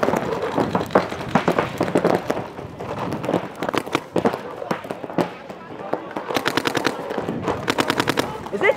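Paintball markers fire during a snowy outdoor paintball game in rapid, repeated volleys near and far, with players shouting over them.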